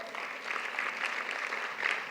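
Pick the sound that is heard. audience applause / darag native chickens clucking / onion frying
audience applause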